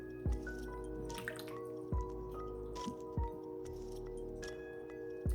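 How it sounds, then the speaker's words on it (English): A pot of vegan beef stew nears the boil, giving occasional distinct plopping bubbles and drip-like pops spaced a second or so apart over a quiet background. "We're going to let it come to a boil and stirring it occasionally."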